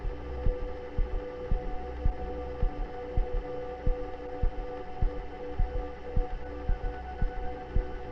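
A heartbeat sound effect pounds in a steady, regular rhythm of dull thumps over a low hum, alone and fairly quiet.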